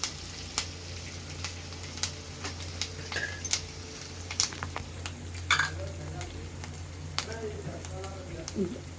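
Onion, curry leaves and tempering seeds fry in a pan with a soft, steady sizzle, cut by scattered spoon taps and scraping stirs, while a low hum sits underneath.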